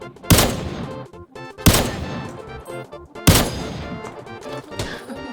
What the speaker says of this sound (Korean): 아, 총소리